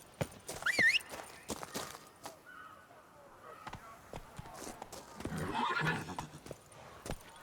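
Roach, a horse in a video game, whinnies up close with a rising squeal, then clip-clops along at a walk over faint ambient noise, a second snort and whinny rising near the end.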